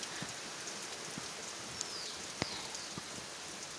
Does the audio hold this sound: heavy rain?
yes